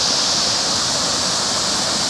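Water spilling over a small check dam on a river, a dense continuous rushing roar, close and steady with no pauses and no voices.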